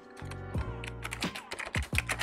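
Someone typing a terminal command on a computer keyboard, with a few distinct close key clicks and taps in an uneven rhythm and no talk.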